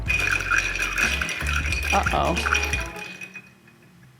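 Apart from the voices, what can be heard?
bar spoon stirring ice in a mixing glass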